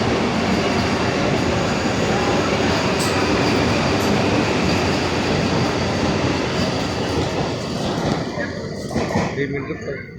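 High-speed bullet train rushing past in Gujarat, a loud continuous roar of wind and rail noise that fills the whole clip and only begins to fade near the end, with a voice heard over it.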